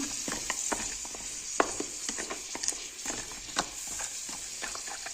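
A pot of okra and meat stew with dried lemon bubbles on the stove, giving a steady sizzling hiss broken by frequent small pops and clicks, close and continuous with no voices.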